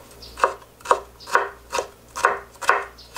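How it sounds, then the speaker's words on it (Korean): Knife chopping red bell pepper into small pieces on a cutting board, seven sharp evenly spaced strokes about half a second apart, close and clear with no talking. "먼저 야채부터 썰어 볼게요. 이렇게 작게 썰으면 됩니다."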